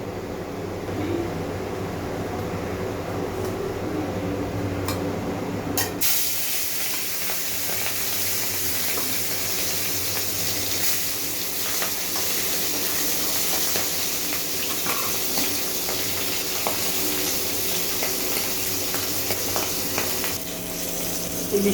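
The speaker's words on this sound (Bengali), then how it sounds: "এখন আমি এই তেলের মধ্যে ইলিশ মাছের মাথাটা ভেজে নেব।" Hilsa fish head frying in mustard oil in a kadai, a steady broadband sizzle that runs throughout, sharper and brighter at the start and then settling into a continuous, close, moderately loud crackle with no talking.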